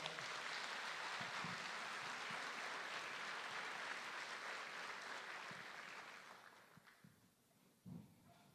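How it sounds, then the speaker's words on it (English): A crowd claps in a steady, dense round of applause honoring a merchants association's donation, sustained for several seconds before fading out, followed by a brief burst of noise. "a round of applause for their efforts"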